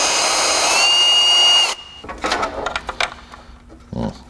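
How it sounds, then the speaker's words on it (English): An electric drill boring a hole whirs steadily at close range for under two seconds, then cuts off, followed by scattered clicks and handling noises. "I can make the hole bigger. I have more drill bits."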